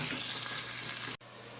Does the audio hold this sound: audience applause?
no